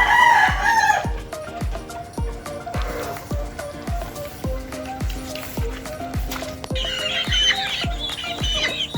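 Chickens and young chicks on a cockerel-raising farm cluck and peep over a steady regular knocking, with busy, close flock chatter throughout.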